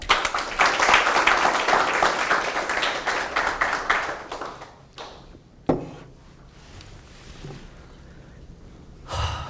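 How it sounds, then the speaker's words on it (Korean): A lecture audience claps for about four seconds, the applause swelling and then fading out. Scattered quieter sounds follow, including a sharp knock and a brief rustle near the end. "그분을 위해서 박수 한번 칩시다."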